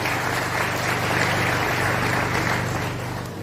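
Audience at a graduation ceremony applauding, a sustained even wash of clapping through the room that thins slightly toward the end, with a low hum underneath.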